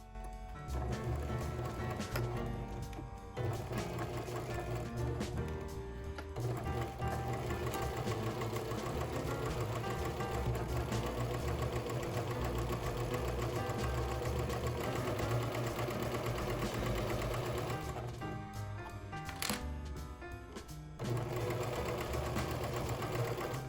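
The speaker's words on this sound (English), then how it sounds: "I've got the pockets, they have a nice little facing, and I'm ready to stitch them into the garment." A sewing machine stitches pockets with facings into a bulky vintage-inspired skirt, a loud, dense mechanical rattle that runs almost without a break, with only a few short pauses.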